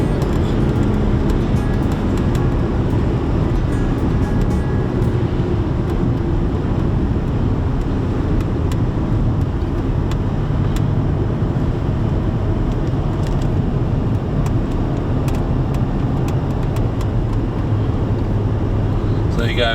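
A diesel Range Rover TDV8 accelerating hard along a straight road, recorded from inside the cabin: a steady, loud low engine drone with road rumble that holds throughout.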